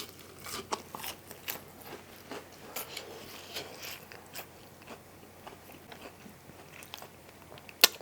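Crispy buttermilk boneless buffalo wings bitten and chewed close up, with faint crunchy bites and soft chewing noises that repeat irregularly at low volume and end in one sharper crunch.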